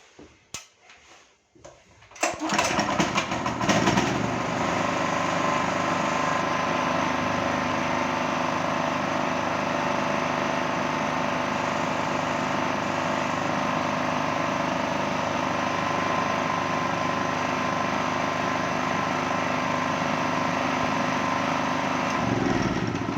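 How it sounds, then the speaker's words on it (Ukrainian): A small generator engine starts after a brief quiet moment, then runs at a steady, loud drone with a high whine, unchanged for about twenty seconds. "Як ви могли почути, змін в роботі двигуна не було."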